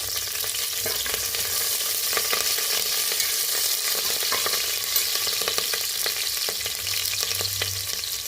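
Cashews and chopped green chillies fry in a pan for palak khichdi, a continuous close sizzle with occasional light stirring clicks, steady and fairly loud, with no voices.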